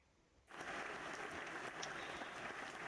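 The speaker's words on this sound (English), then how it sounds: "Let's give him a clap." A crowd breaks into applause after a moment of quiet, steady dense clapping that continues to the end, moderately loud and heard on its own.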